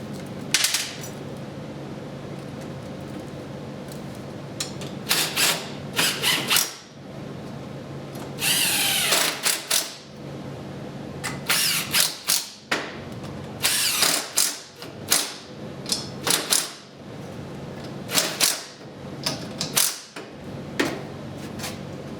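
A power drill backs out the bolts holding the back cover onto a motor, firing in repeated short whirring bursts separated by pauses, loud and close with some ratcheting clicks.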